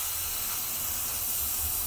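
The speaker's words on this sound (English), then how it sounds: "I now spraying bits grey" Steady, continuous airbrush or spray-can hiss while spraying Games Workshop model parts grey, close and unbroken throughout with no pauses.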